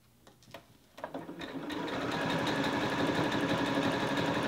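A sewing machine stitches fabric onto rope to build a coiled rope bowl, starting with a few uneven taps before rising into a steady, close, continuous mechanical whirring that runs to the end.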